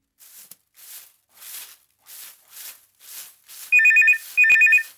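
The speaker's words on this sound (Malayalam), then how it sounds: "ഇതാരാ ഈ കൊച്ചുവെളുപ്പാങ്കാലത്ത് വില്ലേജ് ഓഫീസിലേക്ക് ഫോൺ ചെയ്യുന്നത്?" A telephone rings at a village office in the early morning: two clear electronic ring bursts near the end, after a series of soft rustling sounds, with no talk.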